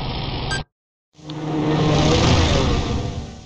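A motorcycle engine in the adventure game Full Throttle Remastered: a short burst cuts to a moment of silence, then a loud, steady engine roar swells in and holds close without any talk.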